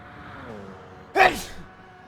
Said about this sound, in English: You're sneezing a lot.